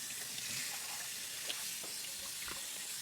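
Chicken breast pieces are rinsed one by one under a cold running tap, giving a steady broadband water hiss with small splashy bumps, fairly close and with no talking.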